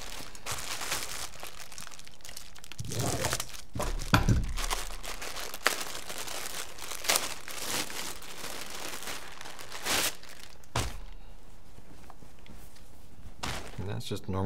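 Plastic wrapping on an HK Army 2017 Happy Package crinkles and tears in bursts, with a few sharper rips and thumps amid a voice talking nearby.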